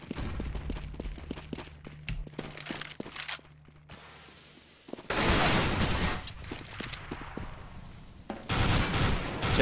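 Bursts of CZ pistol fire in CS:GO during an esports qualifier match: rapid sharp shots in the first few seconds, then dense loud fusillades of mixed gunfire later, with no talk.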